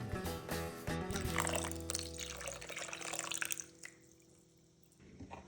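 Orange juice poured into a batter, a close liquid trickle and splash that runs for a few seconds, then tapers off to near quiet.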